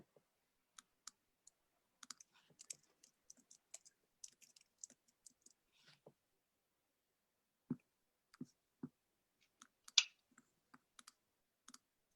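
Typing on a new computer keyboard, sparse quiet key clicks in irregular bursts with pauses, a few louder taps standing out, nearby and alone without talk.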